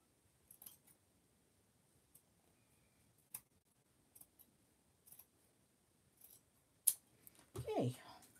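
Scissors snip fabric edges in a scattered series of small, sharp, close clicks at irregular intervals, followed by a louder rustle of handling near the end.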